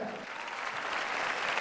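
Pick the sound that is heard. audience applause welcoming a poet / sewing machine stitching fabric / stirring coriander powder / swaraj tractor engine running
audience applause welcoming a poet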